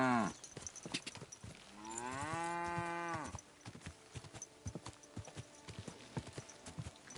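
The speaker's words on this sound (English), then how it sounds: "Look out, cows!" Cows moo in the medieval video game Kingdom Come Deliverance 2, a long drawn-out low bellow standing over a busy patter of hoofbeats and clopping footsteps nearby.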